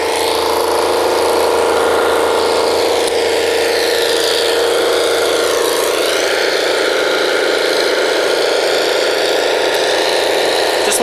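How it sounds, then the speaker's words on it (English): A 2009 kelly drilling rig runs continuously, giving a loud steady mechanical roar and whine that holds unbroken throughout with no voices. "we'll continue to drill here 24 hours a day, 7 days a week till we're done on bottom"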